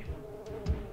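Bees buzz in the video game Monkey Magic, a steady droning hum with a couple of faint louder swells, heard alone.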